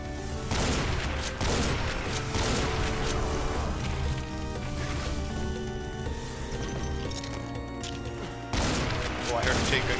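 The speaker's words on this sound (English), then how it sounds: "I heard a chain gun guy behind you" Chain gun firing in Doom, a sustained rapid volley of gunfire with booming impacts and in-game music, briefly easing before a fresh burst near the end.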